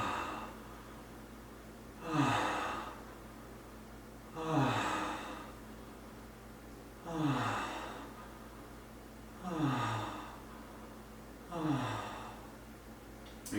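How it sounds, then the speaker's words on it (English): Slow, deep breaths in and out through the mouth come close to the microphone in a steady rhythm, five long exhales spaced about two and a half seconds apart, with no talking. "Breathing in and out of the mouth."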